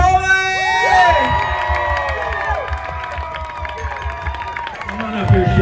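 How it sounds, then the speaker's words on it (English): Crowd at a poke cooking contest in Scottsdale, Arizona cheering and applauding a round winner, loud whoops and shouts over clapping, with an announcer talking through it. "Ladies and gentlemen, a huge round of applause for our traditionals round winner."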